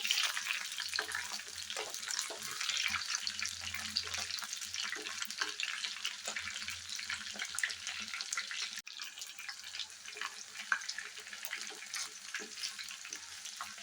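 Vanjaram seer fish slices frying in a pan just after being flipped, a busy crackling sizzle with scattered pops, easing slightly in the latter half.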